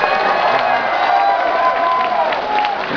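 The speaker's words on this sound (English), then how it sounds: "Give yourselves a huge round of applause." Crowd at a Summer of Sonic fan event cheering and clapping, a dense steady wash of voices and applause at close range, sustained throughout without pause.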